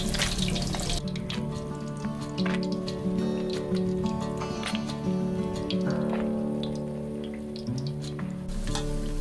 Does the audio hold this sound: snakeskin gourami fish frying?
yes